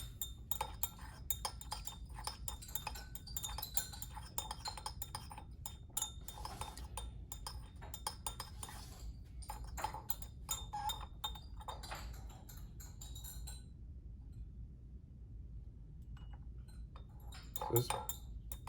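Glass and metal clinking from stirring a reagent in a glass flask during a 9-fluorenone reduction, a steady run of small taps and chinks that stops briefly near the end before one more clink.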